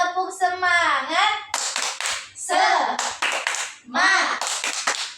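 Young schoolchildren in a low-grade Indonesian classroom chant the tepuk semangat rhythm, sharp bursts of group hand claps alternating with their voiced, sing-song calls.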